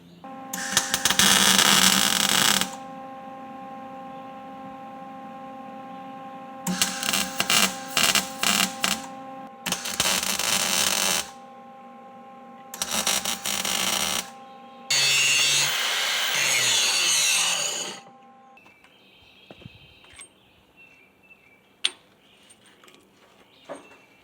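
Welding on a steel plate: five separate bursts of harsh, crackling arc noise, each lasting one to three seconds, over a steady low machine hum, with quieter clicks and handling sounds at the end and no talking.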